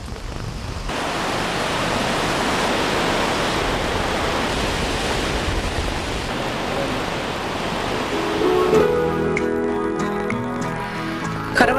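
Waterfalls at Plitvice Lakes, Croatia make a loud, steady broadband rush of falling water that holds unbroken throughout, with a musical tone emerging near the end.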